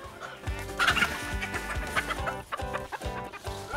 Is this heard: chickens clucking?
yes